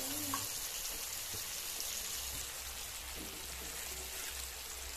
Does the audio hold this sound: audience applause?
no